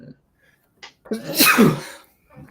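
A single loud, close sneeze bursts out after a sharp intake of breath, followed by a brief murmur of a voice.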